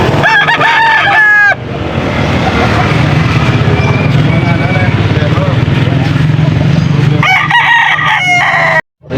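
Young roosters at a Pampanga poultry market crowing loudly and close by, with several overlapping crows at the start and again near the end, and someone talking through the middle.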